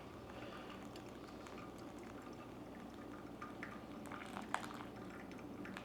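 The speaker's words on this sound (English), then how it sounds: "Slowly, so it's not supposed to agitate the last pour." Hot water is poured slowly in a thin stream onto coffee grounds in a pour-over brewer, the final 480-gram pour of a Salvadoran coffee from Metapán, giving a soft steady trickle throughout, close but quiet.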